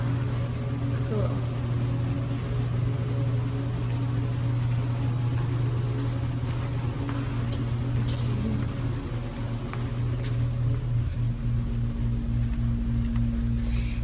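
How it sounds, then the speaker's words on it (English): Filling, lidding and labeling machines run on a ferment production line in a Boulder, Colorado facility, giving a steady loud mechanical hum and whir with faint clicks throughout, and no one talks over it. "this is a filling machine, a lidding machine, and then out there is a labeling machine"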